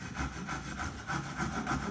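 A hand saw cuts through timber in quick, even back-and-forth strokes, close and steady, with no speech.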